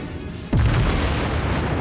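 A naval gun shell fired from the battleship Kongo strikes a battleship's citadel in the game World of Warships, a sudden deep boom that rolls into a sustained heavy rumble, loud and close.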